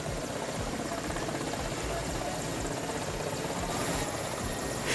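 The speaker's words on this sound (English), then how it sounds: "the chopper hovers menacingly just above the ground" A helicopter hovers low just above the ground, making a constant, loud, dense rotor and engine roar that stays steady throughout, with a crowd of onlookers nearby.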